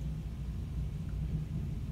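Distant thunder rumbles low and steady throughout a severe thunderstorm, a quiet, constant roll with no distinct claps.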